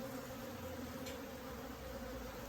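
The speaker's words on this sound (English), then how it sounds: "Bees are steady cleaning plaster off." Honey bees buzz in a steady, dense drone inside a church wall during a colony removal, a faint, continuous hum with no talking.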